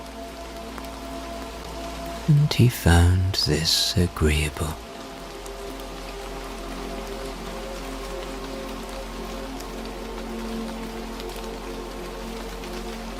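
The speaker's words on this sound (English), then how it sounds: "The rain made a gentle sound on the umbrella" Gentle, steady rain patters on an umbrella throughout, a soft continuous hiss. A calm voice speaks briefly near the start, then the rain carries on alone.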